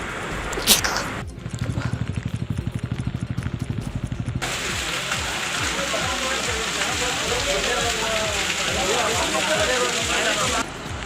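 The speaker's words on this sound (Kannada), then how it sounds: "ಹಾವೇರಿ ಜಿಲ್ಲೆಯ ರಟ್ಟಿಹಳ್ಳಿ ಭಾಗದಲ್ಲಿ ವರುಣನ ಅಬ್ಬರ ಜೋರಾಗಿದೆ" Heavy rain pours down in the Rattihalli area of Haveri district, Karnataka, a dense, continuous hiss with brief splashy patter near the start.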